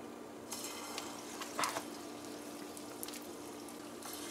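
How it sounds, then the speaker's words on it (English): Pholouri batter frying in hot oil gives a faint, steady crackling sizzle, broken by a few soft clinks and stirring sounds. "start frying."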